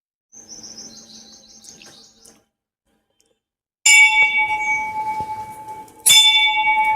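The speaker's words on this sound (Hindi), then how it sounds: "ये बाबा का गुरु घंटा है, इसका बहुत बड़ा महत्व है।" A large temple bell, the guru ghanta of the Pashupatinath Mahadev temple at Chhapar, is struck twice, each strike loud and close with a long ringing tone; birds chirp faintly before the first strike.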